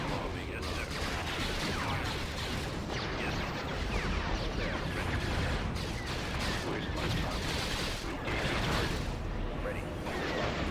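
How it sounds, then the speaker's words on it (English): A bombing run in the Star Wars strategy game Thrawn's Revenge, heard as a continuous barrage of blasts and rapid fire with a person talking over it. "And let's get a bombing run in."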